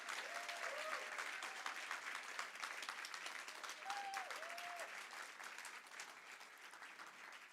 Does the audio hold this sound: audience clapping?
yes